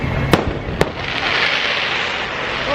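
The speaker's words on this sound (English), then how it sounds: "you caught some fireworks there from the castle show going off" Fireworks from the castle show at Magic Kingdom, two distinct bangs a moment apart, heard from a distance over a continuous crowd and park hubbub.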